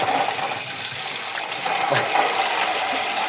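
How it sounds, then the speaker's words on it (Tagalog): Tap water runs steadily into a shallow spot for Philippine box turtles to drink, a continuous close splashing gush with small droplet clicks. "nahina yung tubig lakasan natin"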